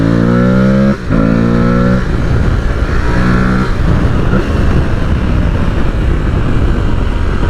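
Aprilia Tuareg 660 motorcycle ridden hard on a track through a decreasing-radius corner, its engine note climbing in rising harmonic sweeps, briefly dipping at a gear change, then revving on under heavy wind roar, loud and close throughout.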